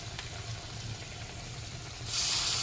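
Battered pumpkin flowers for a chop fry in hot oil over a medium gas flame. A low background hum gives way to a loud, bright sizzle that surges and holds steady near the end, with no talking.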